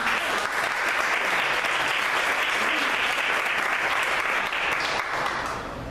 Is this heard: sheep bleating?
no